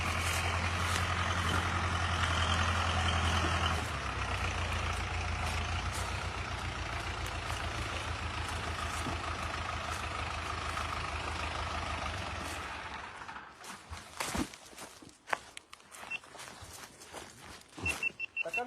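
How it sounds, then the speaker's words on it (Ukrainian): A tractor's engine drones steadily, then fades as it drives away along a rural road, leaving quieter scattered clatter and footsteps near the end. "Ні, трактор вже поїхав, бач."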